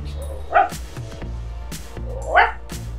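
A large pet dog barks twice, close and loud, with a pause between the barks over faint room noise.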